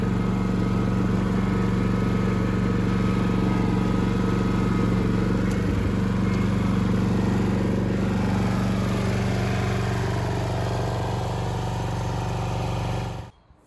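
A John Deere 300 garden tractor engine runs steadily at a loud, close, even drone for most of the clip before abruptly shutting off at the end.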